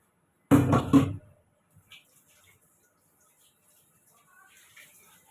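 Water from a pot is poured over desi chicken pieces with ginger in a cooking pan, a loud close splashing gush lasting under a second, followed by near silence with faint small clinks.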